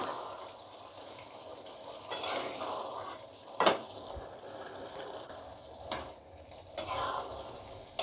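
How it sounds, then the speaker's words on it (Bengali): Paneer stirred in a hot pan for paneer bhurji makes a low sizzle, broken by several scraping and clinking strokes of a spoon against the pan at irregular moments, with no voices. "এবার আমি পনিরগুলোতে দিয়ে দেব একটু নাড়াচাড়া করে নিয়ে"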